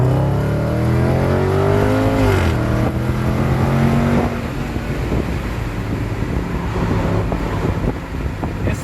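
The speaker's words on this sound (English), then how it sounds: "It sounds just like a sports car." A 2020 Jaguar F-Pace SVR's supercharged 5.0 V8 revs up loud and close, rising in pitch and then dropping before settling into a rough, rumbling idle with wind noise.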